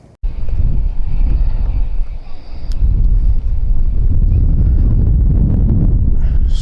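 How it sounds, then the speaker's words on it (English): Strong wind at Birmingham Airport on a gusty afternoon buffets the microphone in a loud, continuous low rumble that swells and eases in waves. "So as it's windy, I like to see a bit of rock and roll as they land."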